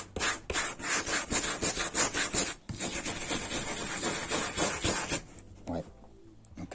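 A stiff brush scrubs back and forth across the fabric headliner of a Renault Megane car roof, a dense rhythmic rasping that runs steadily and close, easing off near the end.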